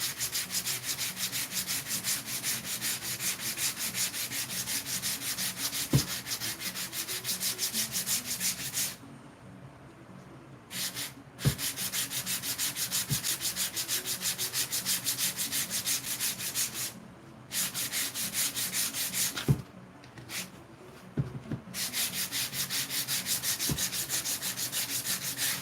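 Sandpaper rubbed by hand in steady, continuous scratchy strokes, fairly close and even in loudness, with two short pauses partway through and no talking.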